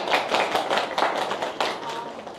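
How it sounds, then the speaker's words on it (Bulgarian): An audience at a hospital celebration at Deva Maria University Hospital in Burgas claps, a short run of uneven, fairly close applause with rhythmic hand beats fading slightly at the end. "аплодисменти за вас"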